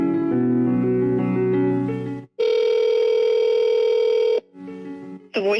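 A telephone line tone sounds while a Google Voice call connects, two long steady electronic tones separated by a brief gap, loud and close, followed by a shorter quieter tone and a rising chirp.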